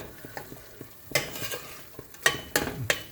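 Onions and spices sauté in oil in a pan for a mutton gravy, giving a low sizzle broken by several sharp scraping and clanking strokes of a spoon stirring against the metal, close and moderately loud.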